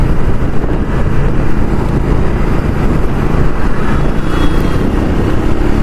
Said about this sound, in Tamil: ஃபிஃப்த் கியரில் வந்து ஃபுல்லாக த்ராட்டில் கொடுக்குறப்ப நான் 100, 110, 120, இப்போ 130.